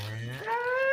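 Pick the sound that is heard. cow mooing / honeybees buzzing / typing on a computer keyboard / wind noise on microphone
cow mooing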